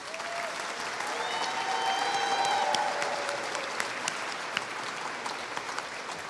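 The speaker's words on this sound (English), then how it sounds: "we give a special round of applause to all of our speakers" An audience at a state house rally gives sustained applause for the speakers, a dense even wash of clapping that holds steady throughout, with a few sharper claps standing out near the end.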